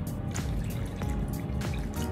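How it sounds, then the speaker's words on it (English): Water poured from a separate container into a coral dip container at a home reef setup, a steady close trickle and splash with small dripping accents throughout, no talking. "so I'm just gonna add some of my water here."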